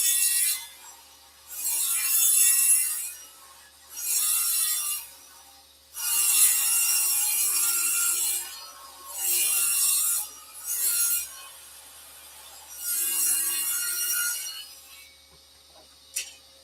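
Hand sanding of a cedar lattice frame comes in about eight separate strokes of rasping, gritty friction, each lasting a second or two with brief quiet gaps between, close up and without speech.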